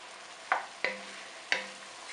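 Vegetables for turkey chili sizzle softly in a pan while a utensil scrapes and taps through them three times, each stroke a short close clack over a faint, quiet background hiss.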